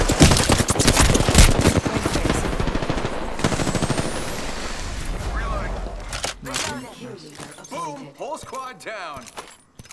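Rapid R99 submachine gun fire in a battle royale shooter, loud dense bursts in the first several seconds that taper off, followed by scattered clicks and effects with a voice talking over it.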